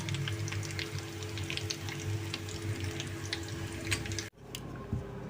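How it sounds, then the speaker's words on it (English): Coconut corn sticks (kokoro) frying in hot oil, a dense continuous sizzle and crackle close up that cuts off abruptly near the end before a quieter softer sizzle resumes. "So when you are frying, you have to monitor it, because some will get done before the others."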